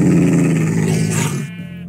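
An angry dog in Minecraft growls in a low, rumbling snarl that tapers off and fades out near the end.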